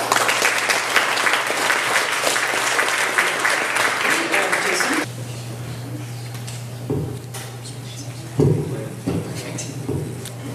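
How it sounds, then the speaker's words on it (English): A warm round of audience applause at a Choosing Death Fest Grimposium talk in Philadelphia, loud dense clapping from a crowd that cuts off abruptly halfway, followed by quieter room noise and a few scattered sounds. "please join me in a warm round of applause for Layla Abdul-Rauf"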